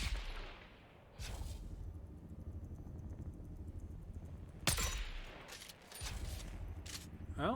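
Sniper rifle shots crack out in the video game Dune: Awakening, two sharp loud reports a few seconds apart over low rumbling ambience, with a faint rattle toward the end.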